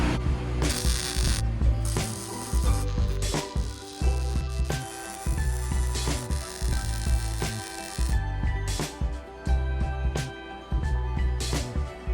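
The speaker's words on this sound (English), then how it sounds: "We got to remove these bolts here. I already got one bolt out." Ratchet wrench loosening skid plate bolts underneath a 3rd-gen Toyota 4Runner, close loud clicking ratchet strokes in repeated bursts with short pauses between them, no talking.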